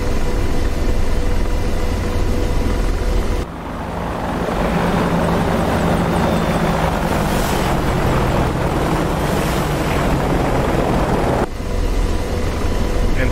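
Apache attack helicopter in DCS World 2.8 sweeping past in a flyby, a loud sustained rotor and turbine roar that swells and broadens in the middle before settling back to a steady engine drone.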